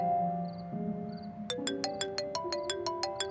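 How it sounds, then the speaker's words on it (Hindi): A phone ringtone plays a rising melodic tune, then shifts into a steady series of bright, evenly spaced chiming pulses, fairly close and clear. "हारिस का फोन है।"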